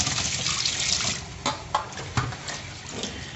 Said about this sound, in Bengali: এই দেখো মাছগুলো এখন ধুয়ে নিচ্ছি